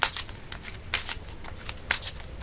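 Tarot cards being shuffled and drawn, a close series of papery riffles and slaps that come in short bursts with brief pauses between them.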